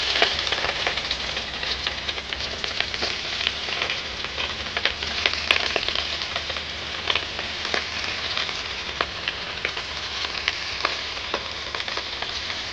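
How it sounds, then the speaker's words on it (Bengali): Hilsa fish fry in oil in a wok with a steady, dense sizzle and crackle that carries evenly throughout, close and fairly loud, with no voices. "আর বন্ধুরা ইলিশ মাছগুলো এখন আমি কড়াতে দিয়ে দিচ্ছি।"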